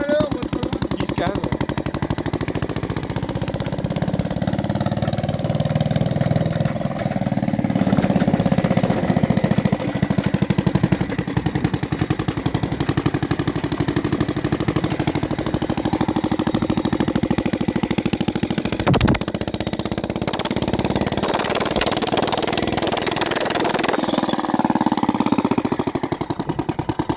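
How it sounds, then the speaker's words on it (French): A Bernard W110 engine runs steadily and loud throughout, a continuous mechanical drone with a rapid rattling beat, close by and alone with no talk over it. "petite présentation sur un moteur Bernard 110"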